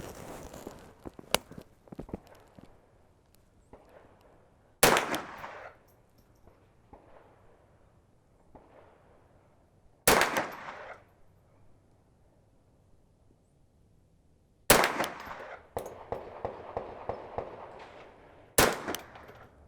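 A Brownells 10/22 takedown rifle fires CCI Blazer standard velocity .22 rounds at a range: five sharp, fairly loud shots spaced several seconds apart, with quieter clicks, handling noises and a short rattling patter between them.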